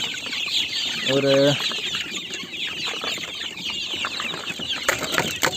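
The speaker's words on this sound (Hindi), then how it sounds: "देख पा रहे हैं कि सारी मुर्गियाँ भूखी हैं, तो फिर डालते ही सभी इकट्ठा हो रही हैं।" Hungry chickens on a poultry farm cluck and chatter as a dense, continuous flock sound while feed is put out, with one rooster-like call and a short spoken word over the noise.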